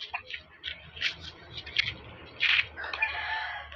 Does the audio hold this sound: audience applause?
no